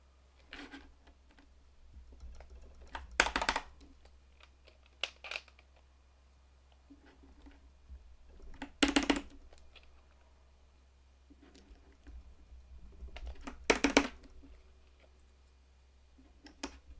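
Keystrokes on a keyboard fitted with modified Box Royal switches come in three sharp, close clusters of rapid clacks, separated by quieter sparse taps and soft handling noise over a low hum.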